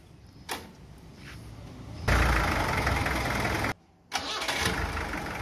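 Ford car engine cranks and starts, then settles into a loud, steady idle that briefly cuts out and resumes, recorded close by.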